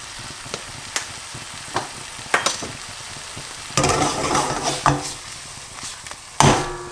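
Thick curry powder mixture with lumps stirred in a pan for a basic chicken curry, giving scraping strokes and sizzling bursts at irregular intervals, close and moderately loud, no talk.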